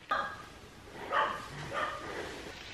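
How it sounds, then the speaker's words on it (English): A dog barks three times in short bursts, spaced about half a second apart, moderately close, with no voices, on a jungle hike near Hsipaw, Myanmar. "the dog started barking"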